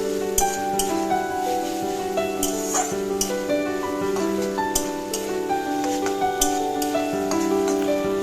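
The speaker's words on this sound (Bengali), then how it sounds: "আদার কাঁচা গন্ধ চলে যাওয়া পর্যন্ত একটু নাড়াচাড়া করে নেব।" Ginger paste fries in a pan while being stirred, a steady close sizzle with light clinks and scrapes of a utensil against the metal, under what sounds like faint background tones.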